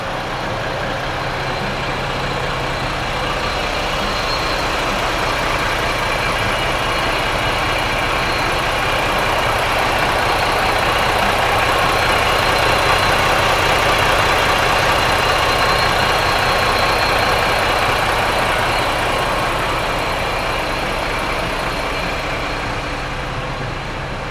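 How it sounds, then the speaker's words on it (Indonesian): A Volvo B11R Euro 5 diesel bus engine idles steadily at close range, a loud continuous rumble with a faint knocking texture and no voices. "kita dengerin suara mesin Volvo B11R Euro 5"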